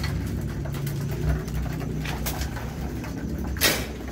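Pigeons coo in a loft during night feeding, soft calls set against a steady low rumble of background noise with a couple of brief sharper sounds.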